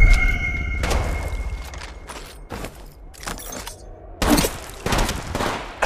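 Bursts of gunfire from an Apex Legends Mobile firefight, with several sharp volleys and rapid shots separated by short gaps, plus mechanical clicks and clattering, loud and close with no talking.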